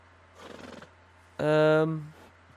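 An Ardenus horse in Red Dead Redemption 2 lets out a loud, close whinny lasting about a second, preceded by a short burst of softer rustling or breathy noise.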